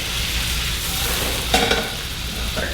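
Vegetables sauteing in a pan alongside pork chops, a constant close sizzle with utensil scrapes as the food is pushed and pulled, and a brief louder clatter partway through.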